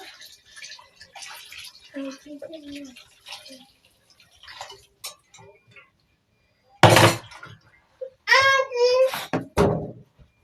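Water poured into a pot of Nigerian palm fruit (banga) soup in a short, loud splashing burst, set among quiet kitchen clatter and spoken voices.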